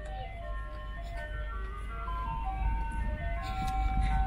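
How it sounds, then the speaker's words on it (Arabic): An ice cream truck plays its jingle on the street, a thin melodic tune heard at moderate distance over a low engine rumble that grows slightly louder toward the end. "يجي هكا كيل كاميو يدير هذا الغناء هكا هاو"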